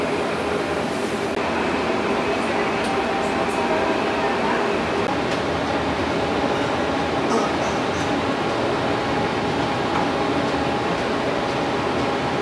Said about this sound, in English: This train is departing for Coliseum Station.